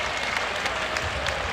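Crowd applause for a visiting player at a 2018 Boston College vs. Notre Dame college basketball game, a steady dense clapping wash with faint crowd noise throughout.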